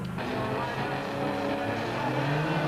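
South African Super Trucks, American stadium-style off-road racing trucks, roar together on a slippery track in 1997, a dense, continuous engine drone with rising revs and no pause throughout.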